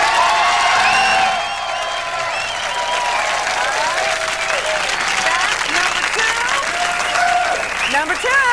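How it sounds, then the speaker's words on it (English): Studio audience applauding and whooping for a dancer, a loud sustained burst of clapping with cheers, mixed with overlapping voices and cries rising through the crowd noise. "You applaud for your favorites as loud as you can"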